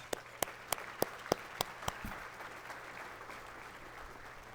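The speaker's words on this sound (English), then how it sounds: "if you would join me in giving her another round of applause." At a State of Our Children breakfast gathering, a handful of distinct, fairly quiet claps ring out in a quick series, then thin away into a soft room hum.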